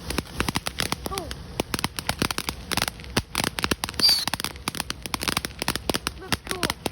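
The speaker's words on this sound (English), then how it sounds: "what would you rate this firework?" New Year fireworks and firecrackers bursting outdoors in rapid, irregular bursts of sharp cracks and pops, some near and loud, others fainter, with a few brief whistles mixed in.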